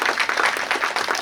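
Audience applause welcomes a guest at a school sports day: a steady, dense wash of clapping held at an even level throughout, with no gaps.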